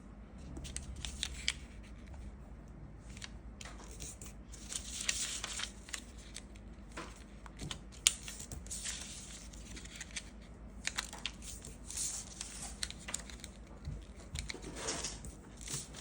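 Paper being folded by hand to make a paper blade spinning-top toy, with repeated close crisp creases, rustles and soft scraping strokes in irregular bursts, quiet with no talking.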